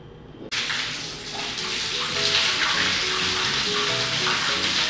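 Hot and cold taps turned on in a hotel shower in Taiwan, water bursting on abruptly and then running as a steady, loud hissing rush that fills the rest of the clip.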